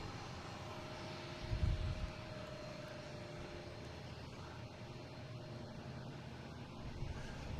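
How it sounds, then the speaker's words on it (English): An American Airlines Embraer E-175 regional jet arriving at Boston Logan, heard as a steady, fairly distant engine roar and whine holding at an even level throughout, with a faint low rumble and no talking. "American E-175 coming in from Louisville, flight 4507."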